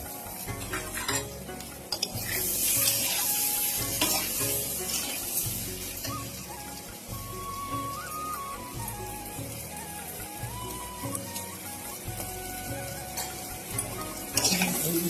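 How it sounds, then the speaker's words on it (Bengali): Potatoes frying in hot oil with cumin seeds and a bay leaf for aloo posto, a steady loud sizzle with stirring scrapes and clinks throughout, no talking. "তেলটা গরম হয়ে গেছে, জিরেটা দিয়ে দিলাম, তেজপাতাটা দিয়ে দিলাম, আলুটা লাল করে ভেজে নেবো"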